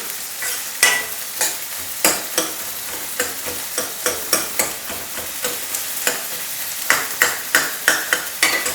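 Three medium onions, finely chopped, fry for palak dal with a steady sizzle and a regular series of sharp spatula scrapes and taps against the pan, close and without talk.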